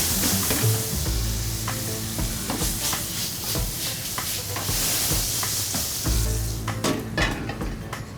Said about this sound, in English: you just add enough vinegar so it basically evaporates into the onion as you go